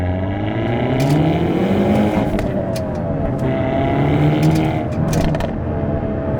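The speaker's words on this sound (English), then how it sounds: "you can already hear that exhaust just open right up" A Hyundai Elantra N's exhaust roars as the engine revs and climbs through the gears in its most aggressive setting, loud and close, with a steady rumble throughout.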